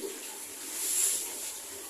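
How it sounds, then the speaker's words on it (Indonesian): Water splashing and pouring during the ritual washing of a deceased body, a steady soft wash of liquid over the body, fairly quiet with no talk. "Kemudian kita basahi juga atau kita siram."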